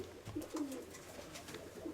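Pigeons in a warm oak-smeared loft give low repeated coos at close range, several soft calls spaced across the moment with light rustling between them.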